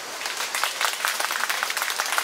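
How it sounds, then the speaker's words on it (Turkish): A theater audience at an outdoor play applauds: a steady wash of many hands clapping at once, sustained and even for a couple of seconds, with no voices standing out. "O zaman kendinizi alkışlayın."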